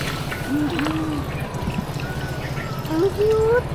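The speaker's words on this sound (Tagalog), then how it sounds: "Galing sa bundok yung tubig na pumapatak dito." Mountain spring water trickles and pours steadily, a continuous splashing stream close by, with faint birdsong or whistles over it.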